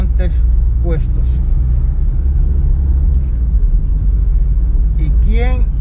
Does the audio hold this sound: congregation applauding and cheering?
no